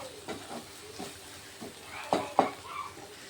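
Spice paste of onion, garlic, ginger and yogurt being fried in a pan, quiet sizzle beneath a few spaced scrapes and two sharper utensil knocks near the end.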